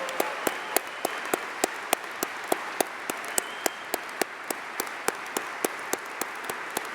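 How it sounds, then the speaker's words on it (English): Applause from the audience at a National Guard convention hall, a soft wash of clapping with sharp, evenly spaced claps standing out near the microphone. "give them a resounding round of applause and a thank you for their service to our great nation"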